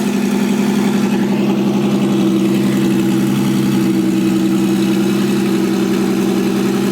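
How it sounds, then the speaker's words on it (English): Big-turbo Nissan 350Z engine idling steadily just after a cold start, a loud, continuous low rumble with even pulses that holds for the whole stretch, no voices over it. "Cold start for the boys."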